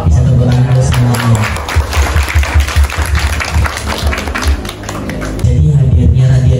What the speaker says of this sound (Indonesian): Bisa tepuk tangan untuk semuanya.